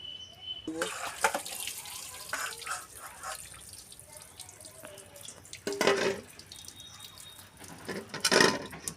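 Water drains and drips from boiled chow mein noodles poured into a strainer, a thin trickle with scattered splashes and louder gushes near the middle and end, close and without talk.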